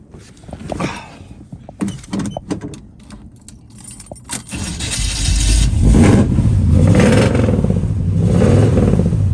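A 1972 Chevrolet Chevelle engine cranks over, catches and roars into steady revving, preceded by clinks and jangling keys.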